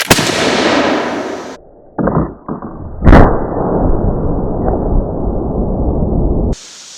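A flintlock smoothbore gun loaded with 2F powder fires outdoors, a sharp, loud crack standing out among abrupt bursts of rushing noise.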